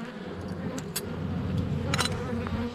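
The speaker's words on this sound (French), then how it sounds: "C'est des essaims, je leur ai mis les hausses extraites la dernière fois" Honeybees from swarms buzz around extracted honey supers set out on the hives, a continuous soft drone with individual bees flying past close by, alongside faint handling noises.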